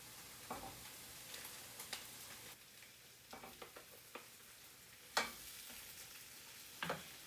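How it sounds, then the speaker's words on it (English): Onions sauté quietly in a pan, a faint steady sizzle broken by a few sharp clicks and scrapes of a utensil, with no voices. "I'm going to let those saute for just a few minutes."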